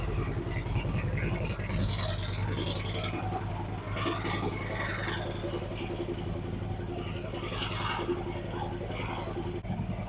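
A 2016 Harley-Davidson Road Glide fitted with a Thundermax tuner, its engine running cold at a slightly high idle, a steady low rumbling throb with some clatter, heard at moderate volume alongside background sounds.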